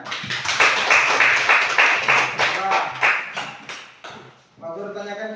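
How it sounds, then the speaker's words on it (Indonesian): A classroom of students claps together at the teacher's request, a burst of close, dense clapping lasting a few seconds before fading, followed by a brief tonal sound. "Tepuk tangan semuanya."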